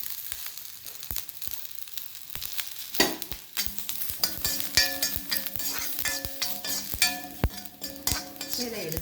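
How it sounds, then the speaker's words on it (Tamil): Grated coconut and cumin roast in a dry pan, a spoon scraping and clinking against the metal in irregular strokes, with a soft steady sizzle underneath, close and moderately loud. "இப்போ பொன்னிறமாக தேங்காய் வறுபட்டுருச்சுங்க. இந்த சமயத்தில் நம்ம சீரகம் போடணும்."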